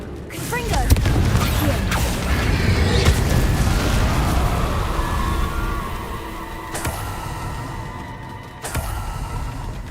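A Confringo blasting spell explodes in Hogwarts Legacy inside a mine: a loud booming burst early on that rolls into a long rumbling, creaking decay, with a couple of sharp clanks later as it fades.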